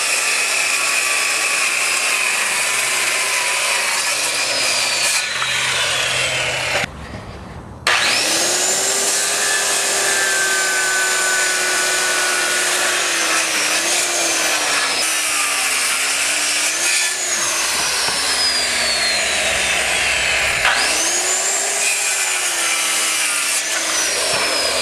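A power tool saws through recycled plastic boards for a raised garden bed, a loud, steady, close cutting whine with rising and falling pitch sweeps and one brief pause near the middle.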